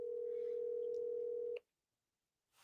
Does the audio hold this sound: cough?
no